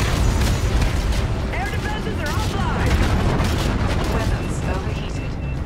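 Ship cannons fire in Call of Duty: Infinite Warfare in a dense, loud volley of booming blasts layered with game effects, and voices talk over the barrage.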